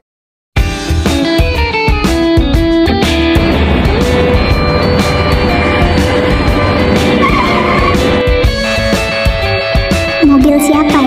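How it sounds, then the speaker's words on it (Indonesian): An animated car screeches up with loud tire squeal and skidding, the engine revving and then settling as it stops, close and prominent at night on a roadside. "Mobil siapa ya? Kok berhenti depan aku?"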